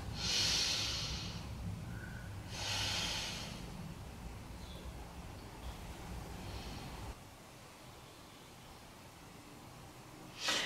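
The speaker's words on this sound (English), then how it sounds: "Deep breath in and out." Slow, deep yoga breathing during a sun salute, with a long airy inhale and exhale repeated, close and steady, with a sharp breath at the end.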